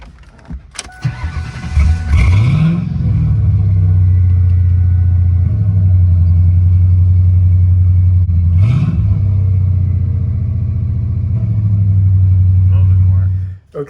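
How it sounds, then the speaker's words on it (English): A car engine with a newly installed IAC valve cranks and starts, then idles steadily up close, with a couple of short throttle blips partway through. "Car starts up. It idles better, around 1200 right now."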